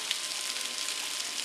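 Vegan gyros fries in a pan during a live cooking workshop, giving off a steady, even hiss of sizzling with faint crackles and no voices over it.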